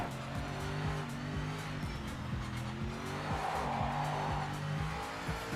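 Tyre scrub in the sim racing game Project Motor Racing, a continuous squealing whine riding over a droning race car engine, with rhythmic pulses as the tyres slide through corners.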